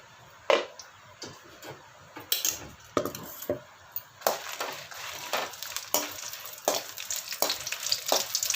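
Whole green chilies, short and long, frying in a pan for a mackerel curry: a steady sizzle broken by repeated crackling pops and scraping stirs, close and clear, with no voices.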